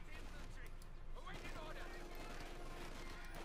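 Machine gun fire in a Company of Heroes 2 match, a steady background of battlefield shooting and distant fusillade running continuously under a commentator's voice.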